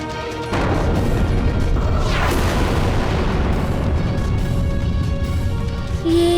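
A volcano erupts in a sudden loud boom followed by a dense, continuous rumbling roar that stays heavy and sustained to the end.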